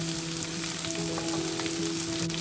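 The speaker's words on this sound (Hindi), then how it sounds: "इसमें हम वेजिटेबल्स डाल देंगे अपनी। कैबेज, प्याज," Cabbage and onion fry for chow mein in a pan, a steady close sizzle running evenly throughout with a faint hum underneath.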